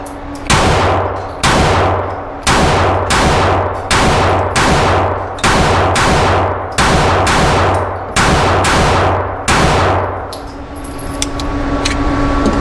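Pistol shots from a Smith & Wesson M&P Shield Plus Carry Comp, about ten sharp close cracks fired in a steady rhythm roughly a second apart, each with a ringing tail and a metallic tone, followed by quieter outdoor noise.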